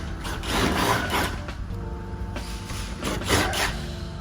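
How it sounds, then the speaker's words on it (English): Self-tapping bolts being backed out of a car bumper with a power tool, giving a few short ratcheting mechanical whirs in bursts, close, with no talk. "I'm gonna take these self-tapping bolts out and we're gonna install the riv nuts."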